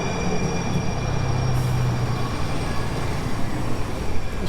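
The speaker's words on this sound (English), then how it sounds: "There's one of those rail cars I was talking about." Freight train rail cars roll past in Charlotte, North Carolina, a loud steady rumble of wheels on track with a faint squeal partway through, no talking.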